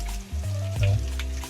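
Onions browning in oil in a pan with turmeric and masala just added, for a Konkani cashew-seed curry; a steady close sizzle with a brief stirring scrape partway through, no talk.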